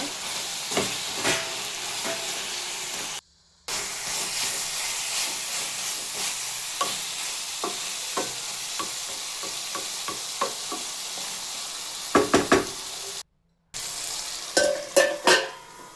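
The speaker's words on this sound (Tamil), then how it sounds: "இப்போ நம்ம மசாலா பவுட்ரு பண்ணி வச்சுருந்து அது போடுங்க. அது போட்டு நல்லா வதக்குங்க." Chicken with turmeric and ground masala powder is stirred in a pan for chicken gravy, a continuous close sizzle and hiss with repeated scraping strokes, briefly cut off twice, with no voices.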